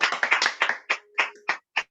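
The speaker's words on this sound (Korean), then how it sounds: "다시 한번 하나님께 영광의 박수 올려드리겠습니다." Congregation clapping in praise to God at a Korean church prayer meeting: a burst of dense clapping that thins into separate claps spaced about every quarter second, moderately loud and close.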